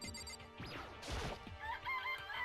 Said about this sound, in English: Yep, that is a chicken.